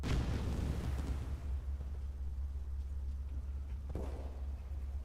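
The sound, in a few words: artillery barrage explosions in Call of Duty Black Ops Cold War video game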